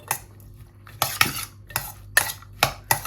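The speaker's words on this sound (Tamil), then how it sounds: "அதுக்கு அதை பிரட்டி விடுவோம்." A spoon stirs chopped onions and chillies in a pan for a bitter gourd salad, giving about seven sharp scraping clacks at an uneven rhythm, close and fairly quiet, with no talk.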